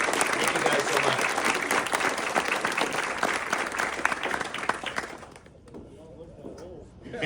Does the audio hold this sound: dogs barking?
no